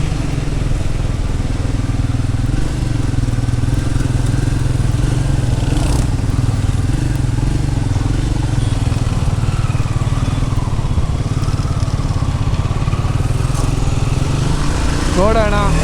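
A motorcycle rides in first gear, its engine running loud and steady throughout with a rise in revs near the end, and the rider's voice is heard over it.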